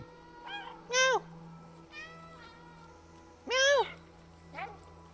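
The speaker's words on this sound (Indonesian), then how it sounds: "Nampak dia meow." A cat meows repeatedly in the video game Stray: several short rising-falling meows, two louder than the rest, spaced irregularly over a quiet ambient hum.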